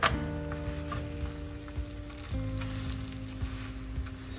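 A green onion pancake pan-frying in oil gives a steady, soft sizzle with a low hum beneath it, continuous and moderately quiet throughout, with no voices.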